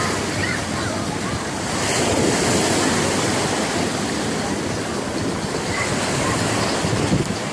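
Sea waves breaking and washing onto a sandy, stony beach in Turkey, a continuous loud surf roar with some wind buffeting the microphone, no voices heard.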